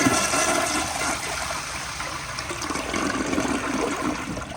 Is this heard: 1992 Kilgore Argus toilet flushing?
yes